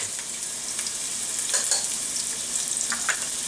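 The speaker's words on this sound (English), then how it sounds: "Then I'm going to add my onion and my garlic." Onion and garlic dropped into warm olive oil in a pan for spinach risotto, giving a bright, constant, close sizzle and crackle with a few stirring scrapes, no voices.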